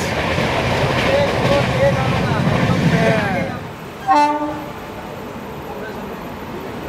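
Padatik Express running fast on Indian rails, a loud rushing roar that fades, then a short sharp horn blast near the four-second mark, followed by a quieter rumble.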